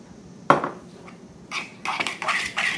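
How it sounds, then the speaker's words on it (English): A metal fork stirs and mashes deviled egg filling, yolks with salt and pepper, in a bowl: one sharp clink, then a run of scraping, clicking strokes, close and fairly loud with no talk. "you stir it all together with your fork again, and you're mashing as you stir"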